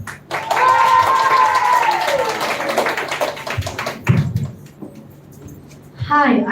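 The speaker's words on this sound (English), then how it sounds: "Give a round of applause to yourself." Children and adults at a school round of a children's literature festival clapping in a loud burst of applause that gradually thins out, with a voice speaking over the start and a brief clatter near the end.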